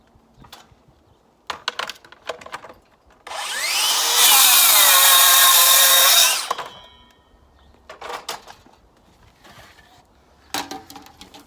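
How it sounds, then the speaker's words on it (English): Plunge saw running along a guide rail as it cuts a wooden panel for a garden studio build, a loud steady whine of about three seconds with spin-up and wind-down, framed by quieter clatter and handling knocks before and after. "we'll use our plunge saw with our rails, keeping the line nice and straight."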